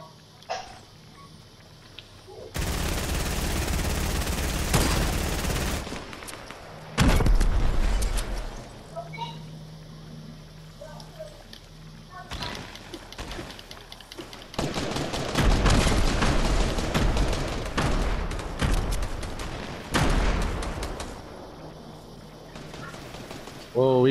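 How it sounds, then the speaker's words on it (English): Rapid video-game gunfire comes in several loud bursts during a squad match, separated by quieter stretches where players talk over the action. "Getting shot at by three people."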